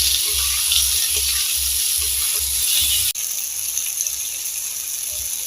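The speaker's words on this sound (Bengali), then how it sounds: "কেটে রাখা ঝিঙেগুলো দিয়ে দিলাম। এবার আমি এগুলো ভেজে নেব।" Sliced ridge gourd fries in a wok, giving a steady broad sizzling hiss close up, with a low rhythmic thumping underneath and a brief cut partway through, no speech.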